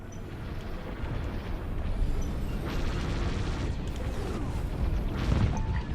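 A cruiser destroyed in the video game Starhawk, a sustained roaring explosion with rumbling, crashing bursts that swell and fade over several seconds, with no one talking.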